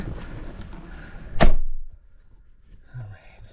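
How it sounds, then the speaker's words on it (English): A Ford Escape car door slams shut once, a loud single thunk after some background talk and movement. "Shut the door this time."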